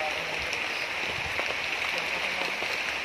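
Steady rain falls on a surface outdoors with a dense, even patter and hiss, close and continuous for a few seconds.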